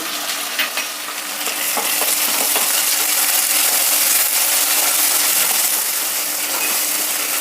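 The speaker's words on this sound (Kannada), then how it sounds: "ಈರುಳ್ಳಿ ಟೊಮೆಟೊ ಸ್ವಲ್ಪ ಮಟ್ಟಿಗೆ ಹುರಿದಾಯಿತು" Chopped onion and a medium tomato fry in a pan for a ridge gourd and potato masala gravy, a steady loud sizzle broken by scraping strokes and light clinks of the stirring spoon, with no talking.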